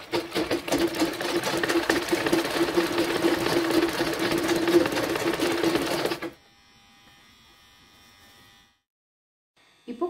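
A sewing machine runs steadily as it stitches the crotch seam of a garment, a close, loud, continuous whirring that lasts about six seconds and then cuts off into near silence.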